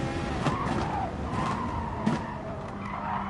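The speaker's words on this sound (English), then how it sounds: "Very tight corner, hard on the brakes." A race car brakes hard into a tight corner, tires squealing and skidding as the engine note drops, loud and close with no talk over it.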